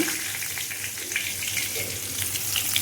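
Green chillies and bay leaves sizzle steadily in hot oil for a Bengali egg and potato curry, a dense close crackle with a few faint kitchen clinks and no talk.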